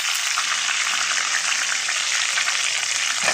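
Mung dal tipped into a hot oiled pan sets off a loud, continuous hissing sizzle close by, steady for a few seconds and then cut short, with no talking.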